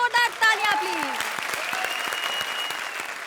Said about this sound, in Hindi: तो इन टीम्स के लिए जोरदार तालियां प्लीज।